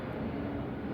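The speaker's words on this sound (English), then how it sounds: "Sorry about the plane." Steady, even propeller-plane drone passing overhead, continuous low rumble that fills the whole second without any talk.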